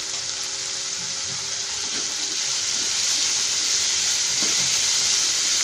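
Diced potatoes sauté in a pan for wedding-style masale bhat, giving a steady, moderately loud sizzle and hiss that runs throughout with no talk over it.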